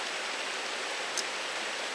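Water from a natural spring, a soft, steady rushing flow, faint and continuous, with one tiny splash near the middle.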